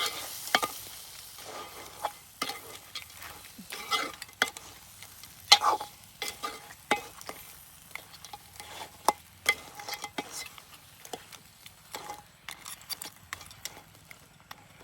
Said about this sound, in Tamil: நண்டு எல்லாத்தையும் போட்டு புளி எல்லாத்தையும் நல்லா மிக்ஸ் பண்ணி எடுப்போம்